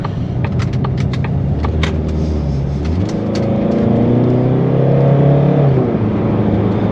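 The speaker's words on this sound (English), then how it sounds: "there's definitely some induction noise, and I mean, it felt fast" A Citroen C5 or Peugeot 407 car engine accelerates hard, with a throaty induction roar climbing in pitch, easing briefly, then building again, with faint clicks and ticks above it.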